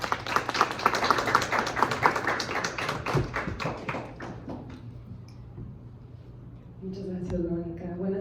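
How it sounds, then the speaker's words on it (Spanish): Audience applause at a book presentation, a dense burst of hand claps in the room that fades after about five seconds, followed by a single voice beginning to speak. "Un aplauso, por favor."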